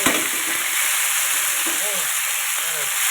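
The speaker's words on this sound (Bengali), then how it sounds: "নুনটা ভালো করে নেড়ে দিলাম তেলের মধ্যে এবার দিয়ে আমি সবুজ ফুলকপিগুলো" Green cauliflower pieces dropped into hot salted oil, sizzling and crackling steadily with a bright hiss, while a voice speaks faintly in the background.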